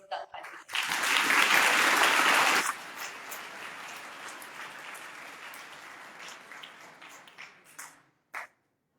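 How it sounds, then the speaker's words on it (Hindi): Students in a school gathering break into a burst of loud, dense applause that lasts about two seconds, then trails off into scattered claps and murmuring voices before a few final isolated claps. "इसलिए एक बार अपने लिए जोरदार ताली।"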